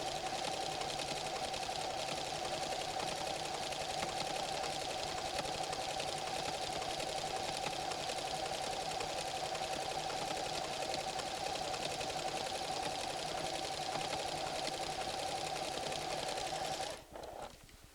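A PFAFF creative 7550 sewing machine stitches a stretch seam on ribbing at a neckline, a steady close whirring hum running evenly for the whole stretch before cutting off near the end; no one speaks.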